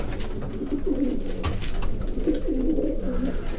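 Young pigeons coo in low, throaty, repeated phrases, two main bursts rising over a steady outdoor background hum.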